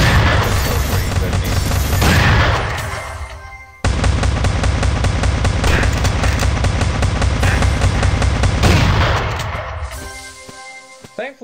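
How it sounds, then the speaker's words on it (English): Shotgun fire against enemies in the video game Block Fortress, rapid booming shots that blend into a dense, loud barrage, a brief break, then more sustained firing that fades out. "You want to switch up to another weapon, like the shotgun, which is"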